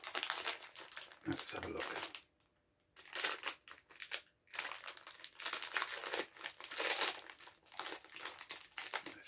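Crinkly plastic snack packaging from a four-pack box rustles and crackles in repeated close bursts while a person talks over it.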